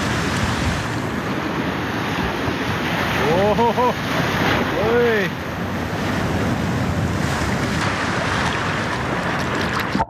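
Strong ocean waves roll onto the shore of remote Kita-Daito island in Okinawa, a loud, constant roar of surf mixed with gusty wind buffeting the microphone, with a person briefly exclaiming.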